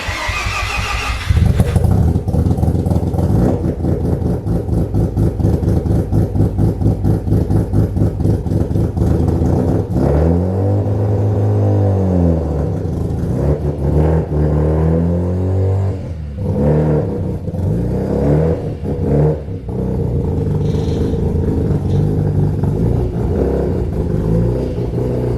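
A car engine runs steadily as the car is eased back into a garage, rising and falling in pitch with a few revs and throttle changes, close and loud throughout with no talking.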